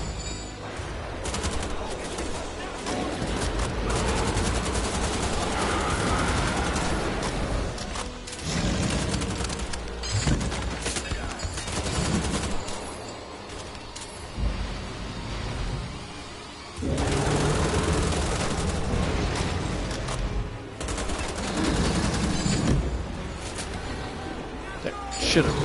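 Dense gunfire while shooting enemies in Wolfenstein: The Old Blood, with loud, sustained bursts and volleys running almost continuously, dipping briefly at times before resuming, under someone talking.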